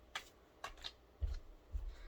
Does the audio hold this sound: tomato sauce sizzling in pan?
no